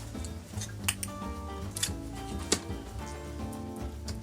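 Scissors give a few quiet, crisp snips while trimming the glued edge of a lid for a homemade bath carnival headdress, with light clicks and handling noise around them.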